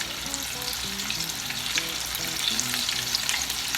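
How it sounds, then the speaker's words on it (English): Chicken strips fry in hot oil with a steady, dense sizzle and crackle that stays close and even throughout, with no voices. "now I'm just gonna drop a few pieces into the hot oil"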